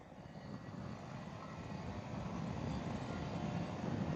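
A small motorcycle is pushed toward its top speed, producing a steady droning engine note that slowly builds in loudness, blended with rushing wind noise, with no speech.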